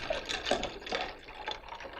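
Sparkling water poured into lemon juice: a soft, continuous pouring and fizzing trickle, close and quiet, lasting about two seconds without talk.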